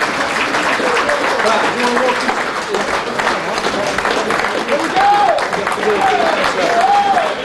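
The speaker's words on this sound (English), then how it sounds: "Give him a round of applause, please." Crowd applause for former unlicensed prize fighter Roy Shaw at a night out, a loud continuous wash of clapping with voices and whistles mixed in across the whole stretch.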